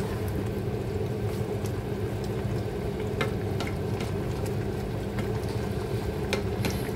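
Beans and potatoes simmering in a pan, giving a steady, even bubbling and sizzling hiss with faint scattered crackles, close and continuous throughout, with no talking.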